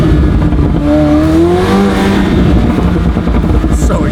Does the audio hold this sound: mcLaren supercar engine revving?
yes